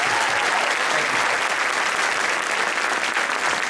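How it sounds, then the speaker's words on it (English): An audience claps at a middle school winter band concert, dense, steady applause filling the room at an even level throughout, with no distinct voices over it. "one more round of applause for Team Band"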